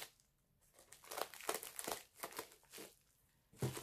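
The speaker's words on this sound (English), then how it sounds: "we're going to try to cut into this without messing it up" Crinkly bubble mailer package being cut open: quiet bursts of plastic crumpling and tearing in uneven clusters, close up, with no talk.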